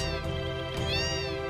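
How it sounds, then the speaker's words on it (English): Several cats meow in a Final Fantasy VII house in Wutai, a run of clear, close, high drawn-out cries with no talk over them. "Kitties!"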